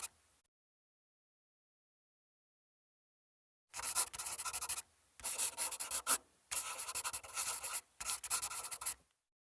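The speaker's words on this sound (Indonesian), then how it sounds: "menambah efek suara gesekan pulpen" A pencil scratches across paper in a sound effect, quick rough rubbing strokes in several close bursts separated by brief pauses after initial silence.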